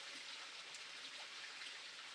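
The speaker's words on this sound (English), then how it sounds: "Waterfalls in the background," A waterfall in a grand landscape produces a steady, hissing broadband rush, faint and distant, with no break over the short stretch.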